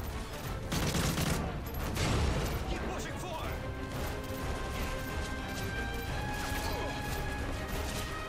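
Heavy gunfire in Modern Warfare 3, bursts of shots and impacts hitting the player, dense and continuous with sharp crashes early on and a sustained noisy battle mix throughout.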